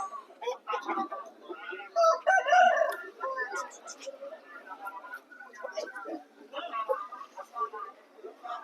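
Roosters crow at a busy Sunday rooster market in Vijayawada, the calls mixed with clucking and fowl noises under frequent nearby talking.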